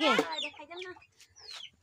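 Young chicks clucking and peeping close by, a quick series of short, bright calls with brief gaps between them.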